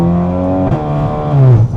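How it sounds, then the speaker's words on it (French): Volkswagen Golf 8R with 500 hp in race mode with exhaust valves open, its engine revving loudly and close with a steady rising drone, pops not clearly separable. "quand tu appuies sur le mode race, t'as les valves elles s'ouvrent, t'as le pop il s'active"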